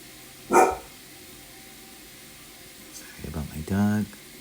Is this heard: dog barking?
yes